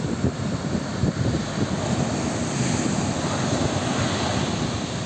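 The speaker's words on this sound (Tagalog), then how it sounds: "Tingnan nyo ang alon, no? Nang lilisik sa galit." Strong ocean waves crashing steadily onto a fine-sand Pacific beach at Lanca, Mati City, Davao Oriental, a loud continuous roar of surf with heavy wind buffeting the microphone throughout.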